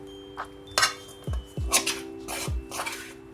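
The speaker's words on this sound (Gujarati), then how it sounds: "તવીથાની મદદથી બધો હાથમાંથી લોટ ઉખેડી નાખશું" A metal spatula scrapes sticky sev dough off an oiled hand in a home kitchen, producing several close, short scraping strokes and clinks against a steady background hum.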